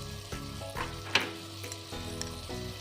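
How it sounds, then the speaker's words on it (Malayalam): Curry leaves sizzling in a pan with mutton curry, a soft steady frying hiss with small pops and faint stirring clinks. "മട്ടൺ ആഡ് ചെയ്തതിലേക്ക് കറിവേപ്പില ഇട്ടു"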